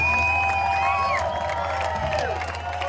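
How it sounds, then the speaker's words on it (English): A concert audience at a show in Ulldecona cheers and whoops in a loud, continuous crowd roar, with shrill voices rising above it and a sustained tone underneath. "Come on, give a nice round of applause"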